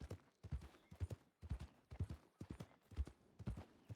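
Horse hooves clip-clopping in RedM WildRP, a close, even rhythm of paired hoof thuds repeating about twice per second for several seconds with no talk over them.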